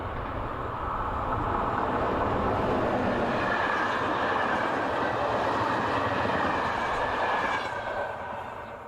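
Locomotive 5607 hauling an afternoon intercity train to Faro on a Portuguese railway passes close by, a sustained loud rumble of wheels and cars that builds quickly and begins to fade near the end.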